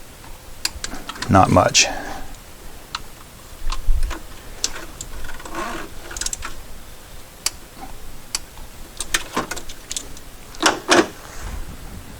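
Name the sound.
torque wrench tightening hose clamp on VW Cabriolet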